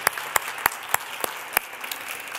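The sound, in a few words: audience applause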